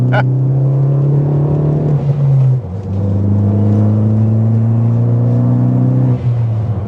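A Ford Focus ST hot hatch with a manual gearbox and a grabby clutch pulls hard through the gears, its engine drone rising in pitch, dropping sharply at a shift near the middle, then climbing again, heard from inside the car.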